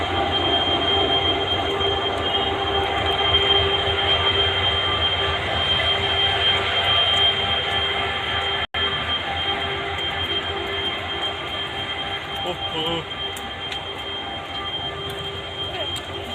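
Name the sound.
train engine passing close with wheels squealing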